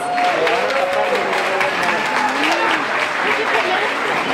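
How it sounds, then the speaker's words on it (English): Sustained applause from a crowd at an award ceremony, dense steady clapping throughout, with faint voices and a few cheers mixed in. "a big round of applause"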